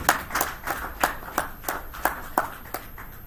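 Clapping rings out at a Nigerian-American Chamber of Commerce breakfast meeting for an award recipient, about ten sharp, evenly spaced claps in a slow steady rhythm, close and clear with little talk.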